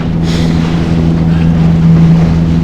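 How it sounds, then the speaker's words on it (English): Strong wind roars across open water on a salmon fishing outing, a loud, steady buffeting rush with a low engine-like hum beneath it and no voices. "Wind's still blowing, but there's no white caps."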